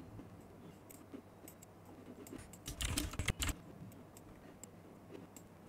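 Computer keyboard keys click in a short, faint flurry of typing near the middle, with scattered isolated taps before and after against a quiet room background.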